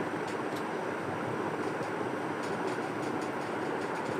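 Chopped onion and chili frying in oil in a pan, just after the fish is taken out, give a steady, dense sizzle that holds evenly throughout with no talking.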